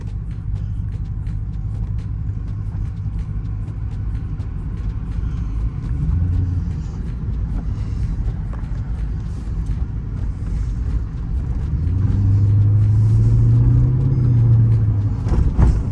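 A 2009 Mercedes-Benz SL550 with a spring upgrade drives steadily, its engine rumble and road noise constant and fairly loud, then rising in a deeper drone near the end as it accelerates.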